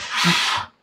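A single short, breathy sneeze bursts out close by and stops abruptly, with no talk around it.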